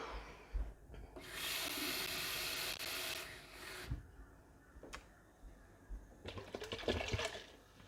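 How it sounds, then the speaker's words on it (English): Tap water running into a passata bottle to rinse it while cooking beef brisket, with a steady rushing gush, then gurgles and sloshing knocks as the bottle fills, close and moderately loud. "And then I'm going to add water to the bottle."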